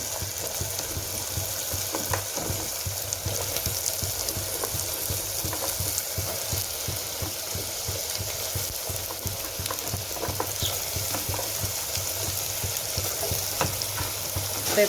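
Pumpkin pieces stir-fry in oil with fried masala, a continuous dense sizzle and crackle running steadily throughout, close and even, with occasional soft stirring sounds and no voices.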